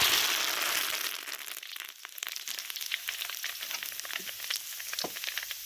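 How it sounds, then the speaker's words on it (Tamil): Mustard seeds and urad dal spluttering in hot oil for a shallot thokku, a close, dense crackling sizzle with rapid irregular pops throughout, loudest at the start and continuing steadily, no talking. "கடுகு உளுத்த பருப்பு போட்டு தாளிச்சிக்கலாம்ப்பா. கடுகு பொரிஞ்சிருச்சுப்பா."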